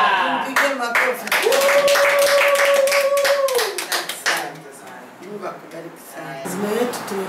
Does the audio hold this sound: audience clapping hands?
yes